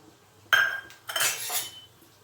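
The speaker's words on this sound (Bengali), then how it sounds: "বড়িগুলো আমার ভাজা হয়ে গেছে, আমি বড়িগুলোকে নামিয়ে নিচ্ছি।" A few metal clatters of a utensil scraping and knocking against a pan as fried lentil dumplings are lifted out of oil, two or three short clinks close by, with no talking.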